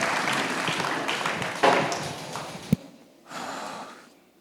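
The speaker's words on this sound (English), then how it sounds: "I want you to give him a big round of applause" An audience at a startup pitch festival applauds, a dense patter of clapping that fades briefly before a second, shorter swell of applause.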